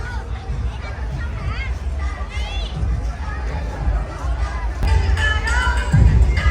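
A crowd on Nguyen Hue walking street in Saigon on a Sunday night during a celebration of the city's 327-year formation, a steady hubbub of many voices and footsteps around the listener, with children's chatter and a louder swell near the end.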